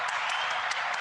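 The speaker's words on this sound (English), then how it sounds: "Round of applause" Steady wash of applause, even and continuous through a brief moment, sounding like a crowd clapping at a moderate distance.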